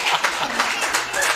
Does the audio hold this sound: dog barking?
no